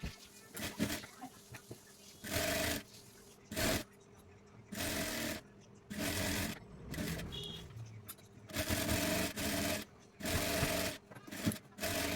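A sewing machine stitches the hip seam of women's pajama pants in repeated bursts of rapid whirring, each running a second or so with short pauses between, close and clear, with some quiet background sounds.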